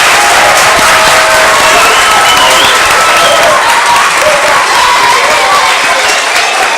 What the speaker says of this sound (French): je vous demande, pour terminer, de vous lever et d'applaudir encore une fois la Fédération guinéenne de basketball